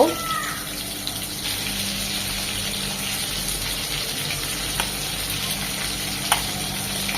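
Prawns fry in garlic butter in a pan, giving a steady, close sizzle with faint watery crackle, alone and with no talk.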